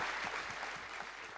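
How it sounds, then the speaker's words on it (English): Audience at a lighting awards ceremony applauding a lifetime achievement winner, a brief, faint, even patter of many hands clapping. "big round of applause, please, for our Lifetime Achievement Award winner"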